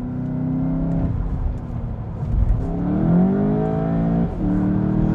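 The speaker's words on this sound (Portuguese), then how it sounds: "Ronquinho de carro esportivo ele tem" A Volkswagen Jetta GLI's deep engine growl rumbles steadily, rising in pitch as it revs, with a brief dip before climbing again; loud and close, played back through speakers.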